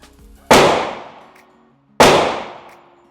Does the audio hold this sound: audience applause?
no